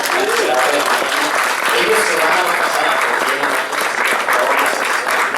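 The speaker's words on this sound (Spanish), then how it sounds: "un gran aplauso por favor" An audience at a press conference for a Mexican television series claps loudly and steadily throughout, with a person talking over the applause.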